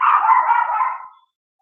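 A dog barks as a sound effect: a single loud, close, drawn-out bark that fades away after about a second, alone.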